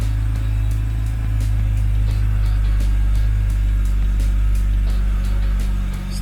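A BMW E90 engine idles steadily with a continuous low hum and faint periodic ticking, close and alone with no talk.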